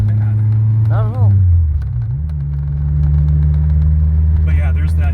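A Renault GTA's exhaust while driving, a loud, low droning rumble from inside the car with a brief rise and dip in pitch, heard under people talking.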